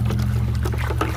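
Hydroponic fertilizer is stirred into water with a PVC pipe that has a hole in the bottom, giving soft, continuous liquid swishing and sloshing over a steady low hum, with no talk.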